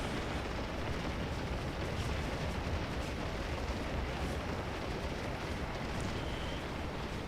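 Continuous rumbling battle din from the Scourge of War strategy game: dense, steady low booms of distant artillery fire blending into a constant roar, with no pauses or voices.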